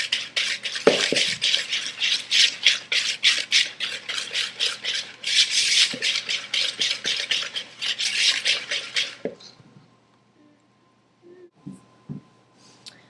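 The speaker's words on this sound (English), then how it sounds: "Then whisk that all together until it's light and fluffy again." Gingersnap batter, dark with molasses, whisked in a bowl until light and fluffy: quick rhythmic scraping strokes of the whisk, close and steady, then stopping, followed by a few faint knocks.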